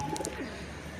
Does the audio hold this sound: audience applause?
no